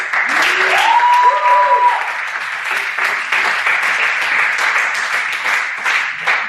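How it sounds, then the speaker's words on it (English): An audience at an evening event with organizers and sponsors breaks into sustained applause, a steady wash of many hands clapping together, with a few brief vocal tones rising over it early on. "Maybe first a big round of applause for the organizers and the sponsors of tonight."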